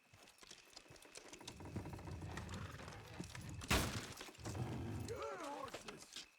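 Horses' hooves clatter in a gallop in the video game Red Dead Redemption 2, mixed with game sound effects and a sharp crash midway, while characters speak briefly.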